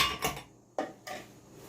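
A couple of ice cubes clatter into a blender jar for a chocolate oat milkshake, two brief hard knocks about half a second apart, close and fairly quiet, with no voices.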